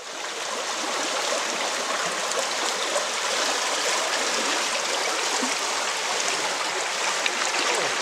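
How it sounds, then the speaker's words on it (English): Duck Creek flowing steadily beside the bank in a national forest, a loud, constant close-up rush of stream water with no voices over it. "we're standing next to Duck Creek today"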